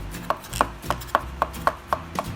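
A child's wooden-handled knife with a finger guard chops food on a board in seven even, crisp strokes at a steady rhythm, close and clear with no talking.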